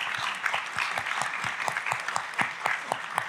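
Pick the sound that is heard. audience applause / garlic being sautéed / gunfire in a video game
audience applause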